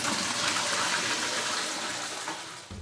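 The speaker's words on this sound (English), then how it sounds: "You can now flush quite normally." A toilet flushes in a tank-based urine-separating system, water rushing and gushing steadily and fairly loud for nearly three seconds before cutting off abruptly near the end, with no talking over it.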